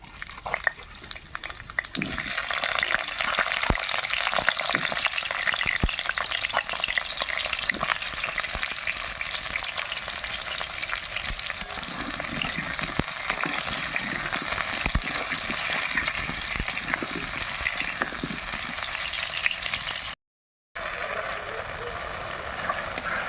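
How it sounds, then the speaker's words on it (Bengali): Potatoes fry in hot oil, a continuous loud close sizzle and crackle with stirring scrapes, steady for a long stretch and briefly cut out near the end. "আলুগুলো ভেজে নিচ্ছি তেল গরম হয়ে গেল"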